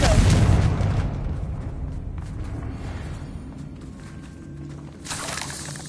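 A Confringo blasting curse bursts in Hogwarts Legacy with a loud, close explosive boom, followed by a decaying rumble of debris and a fainter second blast near the end.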